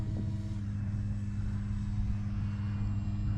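A small propeller plane's engine in a flight video game hums at a steady, fairly quiet drone with no talking.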